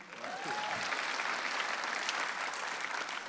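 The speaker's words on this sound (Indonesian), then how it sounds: "beri tepuk tangan dulu buat mantan juri kita, Raditya Dika" Audience applause at a stand-up comedy competition show, a steady, dense wash of clapping that holds loud and even throughout with no voices over it.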